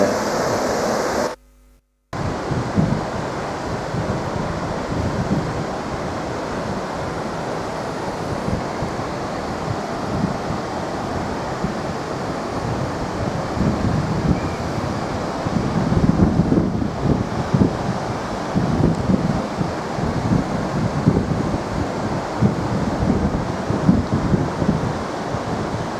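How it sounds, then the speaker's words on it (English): Overflow water spilling down a small waterfall below Hartebeespoort Dam, a steady rushing roar heard from a vantage point above, mixed with gusty wind buffeting the microphone and a brief dropout near the start. "This is from the other side of the Hartebeespoort Dam, looking down at the little waterfall."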